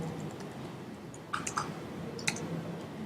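A few light keystrokes on a computer keyboard, quiet clicks clustered in short bursts against a low background hum, with no voices.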